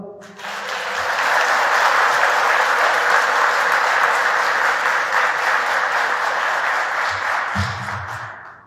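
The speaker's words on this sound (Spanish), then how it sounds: "Un aplauso" A church congregation bursts into sustained, dense applause that swells quickly, holds steady for about seven seconds, then fades, with a few voices audible near the end.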